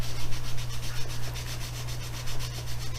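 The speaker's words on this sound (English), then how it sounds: "And sand it back off." Sanding the top of a Greenlight Dodge Ramcharger die-cast model gives fast, close, rhythmic scratchy back-and-forth strokes, about five per second, over a steady low electrical hum with no talk.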